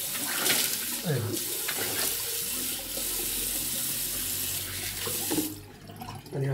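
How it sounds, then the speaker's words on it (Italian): Hot water runs steadily from a tap while a razor and face are rinsed, a continuous broad splashing that swells and dips, with brief clinks and handling sounds near the start. "andiamo a sciacquare il rasoio e il viso con l'acqua calda"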